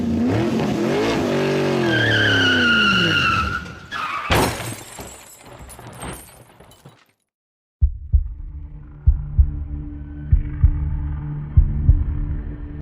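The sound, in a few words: car speeding, skidding and crashing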